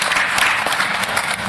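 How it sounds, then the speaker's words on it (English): Brief, loud applause fills a press conference room for two athletics world record holders at the Oslo Diamond League, a dense burst of many hands clapping close by, with no talking over it. "It's almost a little applause for that"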